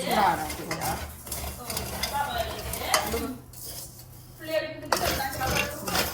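Sago pearls being dry-roasted and stirred in a pan for payasam, with scraping stirs, rattling grains and metallic pan clatter under intermittent voices talking nearby.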